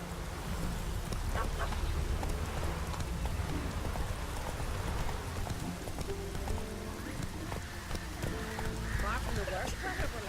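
Hooves of Roach, the horse in The Witcher 3, clip-clopping steadily at a walk amid rain pattering on the ground, close and continuous, with game voices and ambience over it.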